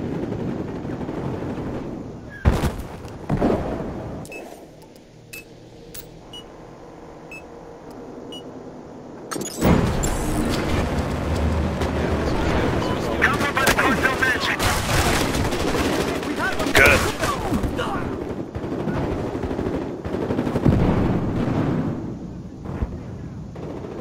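Gunfire in Battlefield Hardline during a Blood Money heist match: loud, dense bursts of shots and explosions fill most of the stretch, with beeps and game effects, after a quieter lull with tones, while a voice talks.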